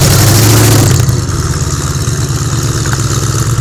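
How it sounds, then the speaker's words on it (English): A De Tomaso Pantera engine growls loudly through a small box-type silencer, a close, deep, continuous rumble whose pitch shifts slightly as the revs rise and ease. "It is a box, not so much of a silencer, but it's a beautiful noise, makes a hell of a noise."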